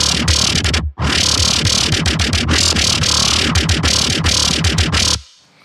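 A growling FM synthesizer bass from the Citrus plugin plays a dense, gritty pulsing line, loud and upfront, with one short gap near the start and an abrupt cutoff at the end.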